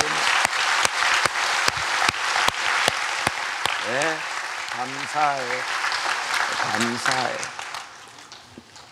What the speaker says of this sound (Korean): 저기 앉아 있는 우리 청소년들에게 격려의 박수